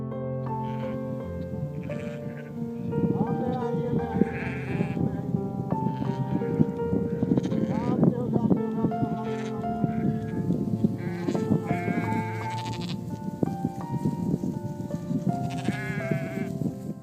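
A goat bleats several times at close range in short, wavering cries. The calls stand over a continuous background of other sound.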